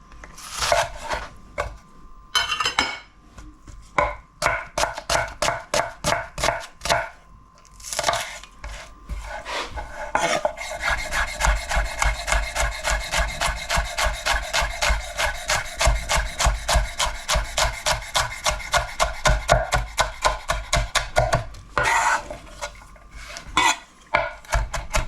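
A knife chops shallots on a board for sardine fishcakes, starting as scattered irregular cuts and settling into a fast, steady rhythm of close, crisp taps with brief pauses.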